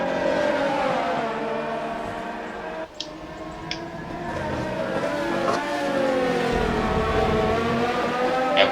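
Race cars roar around the track during a Formula J Spanish Grand Prix under a virtual safety car, with steady, loud engine tones rising and falling as they pass and brief sharper bursts now and then.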